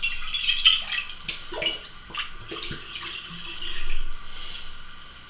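Water is swished and splashed inside a plastic Coke bottle as it is rinsed out, a light, irregular sloshing with short bursts of splashing close to the microphone and no talking.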